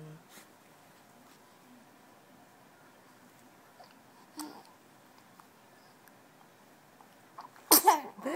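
A baby makes a single short sneeze near the end after a long stretch of near silence with a few faint rustles and small mouth sounds.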